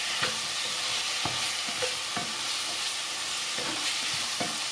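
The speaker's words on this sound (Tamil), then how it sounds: "தக்காளி வதங்கிட்டு இதுக்கு மஞ்சள்தூள் மிளகாய்த்தூளை போடுவோம்." Tomatoes sauté in a pan for Chettinad chicken kulambu, giving a steady close sizzle broken by several sharp spoon scrapes and taps against the pan, with no talking.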